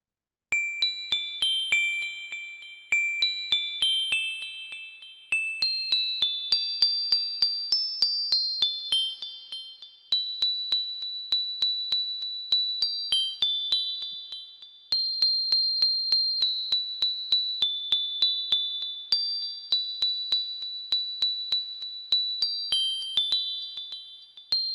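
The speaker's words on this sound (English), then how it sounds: "that was Jingle Bells" Jingle Bells played as a simple melody of bright, chime-like single notes, each struck sharply and decaying, phrases separated by short pauses, alone without voices.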